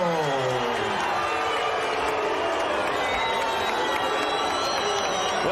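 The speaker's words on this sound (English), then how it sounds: "some mixed reaction from the crowd here" A large boxing arena crowd gives a loud, sustained roar of mixed cheers and jeers after a split technical decision in a heavyweight bout, filling the whole stretch with dense, unbroken noise.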